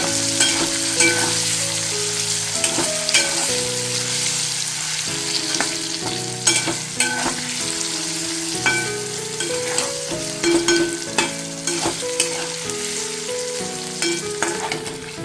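Paneer pieces sprinkled with salt fry lightly in hot oil in a pan, giving a steady crackling sizzle with a few stirring knocks, set under continuous melodic background music and no speech.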